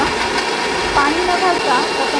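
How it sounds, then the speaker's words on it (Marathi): A kitchen mixer grinder whirs steadily as it grinds a dry coconut masala paste without water, the motor's hum continuous and fairly loud, with a voice talking faintly over it. "पाणी न घालता प्रथम ही मसाला पेस्ट मिक्सरला फिरवून घेतली"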